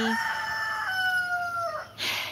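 A single rooster crows once nearby, a long drawn-out call that falls at the end, followed by a short noisy rustle.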